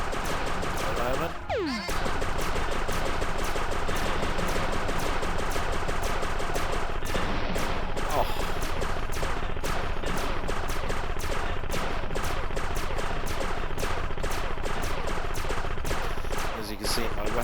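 Gunfire in the arcade shooter game Defenstar: relentless, loud rapid-fire shots pound on for the whole stretch, dense and unbroken apart from a brief dip near the start.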